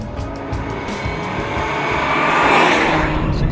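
A supercharged Mercedes C200 drives along, its engine droning steadily and building in pitch and loudness toward the end, with wind and road noise around it.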